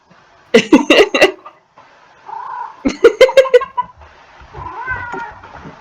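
A tolerant house cat gives two bursts of loud, close, harmonic meows with a raspy, chattering edge, separated by quieter grumbling mews and trailing off into a softer drawn-out whine.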